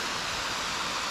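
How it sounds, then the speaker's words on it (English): Waterfall at Ross Run in Hathaway Preserve, with late-winter ice partly melted, gives a steady, even rush of water. The roar holds at a constant, moderate level throughout and sounds alone, with no voices. "So here's our waterfall."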